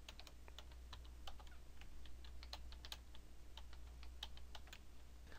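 Someone types steadily on a computer keyboard, producing quick, irregular key clicks close by. The clicking continues throughout over a faint low hum.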